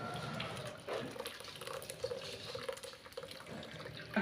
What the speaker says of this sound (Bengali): এই ছাঁকনিতে আলুটাকে এবার ছেঁকে নেব।